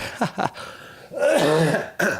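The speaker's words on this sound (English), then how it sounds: "Still got this, I guess, got a nagging cough." A close, raspy nagging cough is followed by a drawn-out throaty clearing sound, then another short cough.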